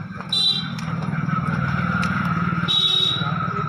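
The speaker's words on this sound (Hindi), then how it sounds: "हॉर्न वगैरह की आवाज़ या कोई गाड़ी बाइक निकल के जाएगी तो उसकी आवाज़ आपको आ सकती है" Cars and motorbikes pass on a road beside a shop, a steady rumble of nearby engines with a couple of brief high tones like horns or brakes, continuous throughout.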